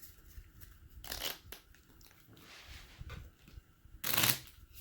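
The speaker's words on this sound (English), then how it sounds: "That was the worst shuffle I've ever had on camera. We'll try it again." Cards are riffled in a couple of quick bursts, each a crisp fluttering rush, with softer handling noises in between.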